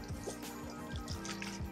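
Water poured over car window glass treated with a nano-protect coating, running off and splashing in a soft, steady trickle with light patters, fairly quiet.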